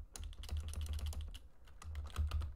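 Quiet, rapid computer keyboard typing while editing button text on an Excel VBA form, a dense run of soft close key clicks with a brief pause midway and no voices.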